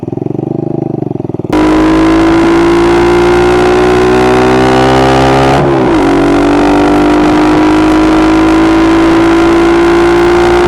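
A dirt bike engine revs hard while climbing a gravel hill, suddenly bursting in loud and close after a quieter start, holding a strong buzzing drone that briefly dips at a shift before pulling on.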